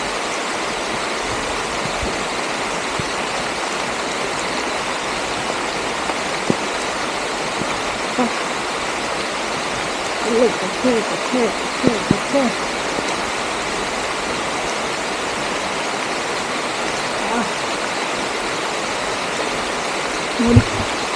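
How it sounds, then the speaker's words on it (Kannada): Heavy rain pours steadily through a forest near Magodu waterfall in Yellapura, a dense, even wash of falling water with a few faint knocks and rustles partway through. "ನೋಡ್ತಾ ಇದ್ದೀರಲ್ಲ, ಫುಲ್ಲು ಮಳೆ."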